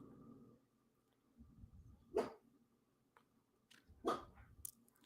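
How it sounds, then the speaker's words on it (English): Dogs indoors barking in two loud, close bursts about two seconds apart, separated by quiet stretches with faint low rumbling. "they were going out there barking too much"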